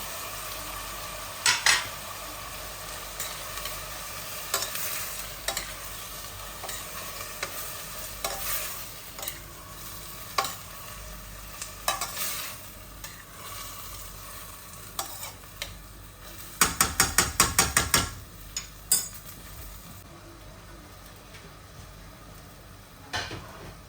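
Tomatoes and onions fry steadily in a pan on a home kitchen stove, a soft continuous sizzle broken by occasional stirring scrapes and a brief burst of clattering utensils near the end.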